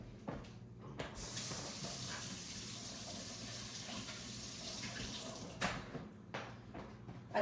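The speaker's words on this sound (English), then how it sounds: "I'm going to go ahead and wash my hands here." Tap water running into a sink while hands are washed, a steady soft hiss of flowing water that starts after a second and stops near the end, fairly quiet and with no talk over it.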